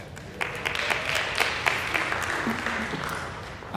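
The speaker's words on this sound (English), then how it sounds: "We can also clap for the Bibles, too." Scattered audience clapping at a town hall meeting, a few separate sharp claps over a low murmur of voices, fairly quiet and brief.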